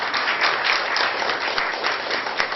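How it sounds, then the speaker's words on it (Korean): An audience at a Korean forestry forum lecture applauds a speaker being introduced, a dense, steady burst of many hands clapping throughout, moderately loud and sustained without talk. "연사님께 뜨거운 박수 부탁드리겠습니다."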